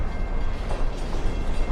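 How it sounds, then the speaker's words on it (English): A train rolls past at close range in Lake Oswego near a farmers market area, a steady loud low rumble with continuous rail noise throughout and no voices. "What do you think about the train?"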